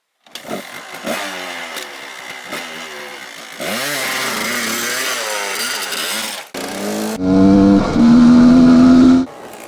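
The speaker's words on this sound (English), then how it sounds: "got a motorbike, the old KDX 200. Screaming 2-banger piece of crap. All noise and no grunt" A Kawasaki KDX 200 two-stroke dirt bike engine buzzes and revs in rising, screaming bursts, loud and close, with a sharp high whine climbing near the end.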